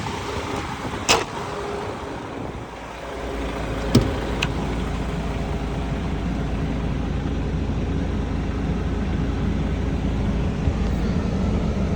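A DAF CF460 tractor unit's diesel engine idles with a steady, even low rumble, with a couple of faint clicks over it.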